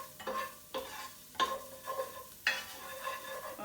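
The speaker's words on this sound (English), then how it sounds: "And saute that for a minute or two, just to really get a little fragrance of garlic going in the kitchen." Garlic and onion sautéing in a pan for a vegetable greens soup, stirred in several sharp scrapes and bursts over a steady low sizzle, close and moderately loud with no talk.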